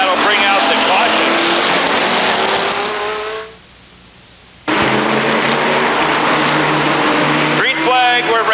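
Race cars roar around the oval at Rockford Speedway in 1999, engines loud and sustained with rising pitch as they pass, then a sudden brief drop to near silence before the pack's engines surge back in full under a commentator's voice.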